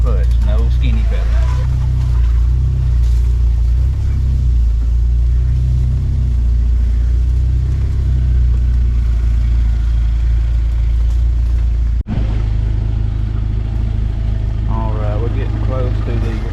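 A Jeep TJ crawling in gear at idle on the clutch alone, no throttle: a steady, loud low engine drone throughout, with a brief dip near the end and a voice talking over it.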